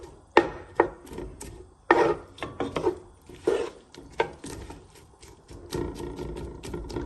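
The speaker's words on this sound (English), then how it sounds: "I kind of stir the onion so it all gets olive oil on it" Onion being stirred in olive oil in a pan for eggplant rollatini, giving irregular scraping and clacking strokes with soft sizzle between them, close and fairly loud, with no talk.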